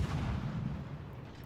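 Heavy warship guns firing in a naval battle video game, including the battleship Ohio: a loud, deep, sustained roar of gunfire that rumbles and slowly fades, with no talking.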